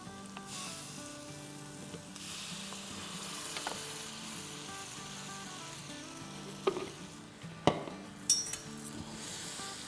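Ground spices fry with tomatoes in hot oil for a Hyderabadi mirch ka salan, giving a steady close sizzle with a few sharp utensil clinks and scrapes near the end.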